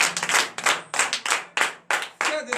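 A church congregation at a morning prayer service claps in unison, loud and close, in a steady rhythm of bursts about every third of a second, with faint voices in the background.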